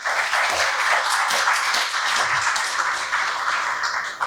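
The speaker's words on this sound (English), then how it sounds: "A round of applause for her, please." A crowd applauds steadily, with dense clapping continuing throughout and no voices standing out.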